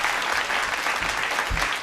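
Audience at a Hindi comic poetry gathering breaks into a short burst of applause, a full continuous wash of clapping lasting under two seconds.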